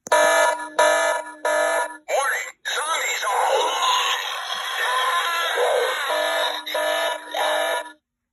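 A zombie-themed alarm toy's small speaker plays a harsh, buzzing electronic alarm in short bursts, then a distorted recorded voice phrase, and finally more alarm pulses, all loud and tinny up close.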